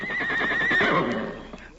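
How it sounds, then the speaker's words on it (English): A horse lets out a loud, wavering whinny in an old radio western drama, close and continuous for over a second before it fades, with faint hoof sounds beneath. "That horse is a devil."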